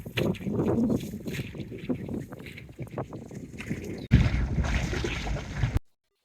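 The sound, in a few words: boat on a sunset cruise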